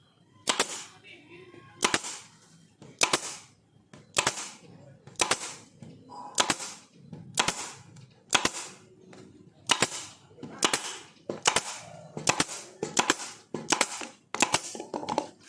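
A DCK pneumatic air stapler drives staples into hard mahogany, giving about fifteen sharp, loud snaps at a steady pace roughly a second apart, with faint air and handling noise between shots.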